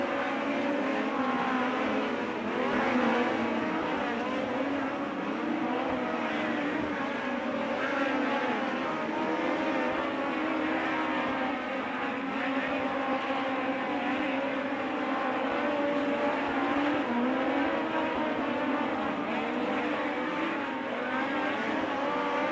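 USAC midget race cars run hot laps at Red Dirt Raceway, a steady, distant, droning engine roar from several cars that continues without a break, with no talking.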